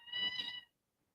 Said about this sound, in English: They're drama kitties. They're just playing around.